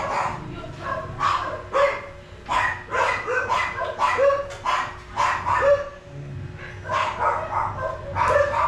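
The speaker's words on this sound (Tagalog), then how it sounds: "yung mga aso ang ingay" Several dogs barking outdoors in the hot midday sun, a rapid, loud, near run of overlapping barks and yips that continues almost without pause, with a steady hum underneath.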